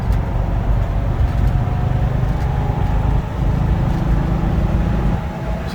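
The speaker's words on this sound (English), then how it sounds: "So now we slosh the gas up a little bit." A classic car engine runs with a steady low rumble, loud and close, holding a fairly even idle with only slight swells and no voices over it.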